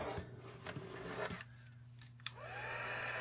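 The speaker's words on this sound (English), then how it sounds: "I've got my heat tool" Heat tool blowing hot air to dry ink on a card-making project, heard as a steady close whir that runs throughout, with a brief click and a shift in the airflow partway through and no talking.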